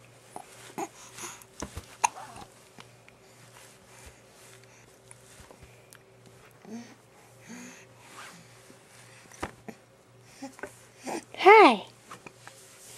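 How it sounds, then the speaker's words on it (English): A baby on a changing pad hiccups, small sharp catches scattered among soft rustling and movement, with a louder voiced burst near the end and an adult talking quietly at times. "You have hiccups?"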